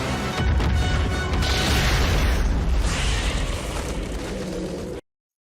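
A grenade blast in the film Starship Troopers, a loud sustained roaring explosion with crashing debris rumbling for about five seconds before cutting off abruptly.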